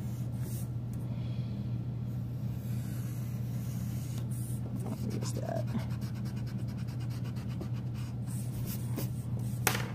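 A pencil scratches lines onto paper up close, steady continuous scraping strokes with quick rhythmic back-and-forth marks later on, over a constant low hum.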